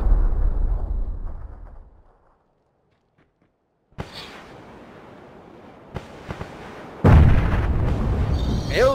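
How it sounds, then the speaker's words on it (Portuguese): Several grenades going off in PUBG, a heavy blast followed by a quiet gap, then sharp pops and a loud booming explosion near the end, with rumbling debris after each. "Meu Deus, quanta granada!"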